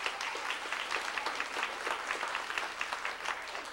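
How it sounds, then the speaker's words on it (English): Applause from kids and audience at a 1990 D.A.R.E. program graduation ceremony at Carver, a steady dense wash of many hands clapping throughout, moderately loud with no speech over it. "all you kids who are graduating in the D.A.R.E program, I think you need to applaud yourself"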